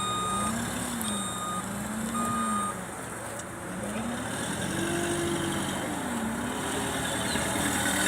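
Forklift rolling forward through a training obstacle course, a steady engine drone under a repeating warbling alarm tone that sweeps up and down, with a short dip midway before the drone and alarm return.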